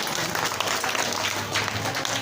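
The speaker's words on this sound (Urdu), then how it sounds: "ان کے لیے بھی تالیاں بجا دیں" An audience claps for teachers at a school result day and prize distribution ceremony: a dense, steady burst of applause from many hands, loud and close, filling the whole moment.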